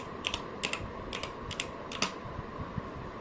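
Folder name typed on a computer keyboard, several quick bursts of crisp key clicks in an irregular rhythm, close and fairly quiet over a faint steady hum.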